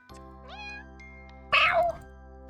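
A single synthetic video-game cat meow rises over a steady electronic hum, followed by a louder, harsher second meow.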